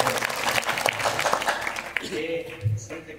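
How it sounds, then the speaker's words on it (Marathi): An audience at a Marathi kirtan claps loudly in a dense burst that tapers off after about two seconds, with voices heard over the applause. "नंबर एक काय वासुदेव जोरात टाळ्या वाजवा"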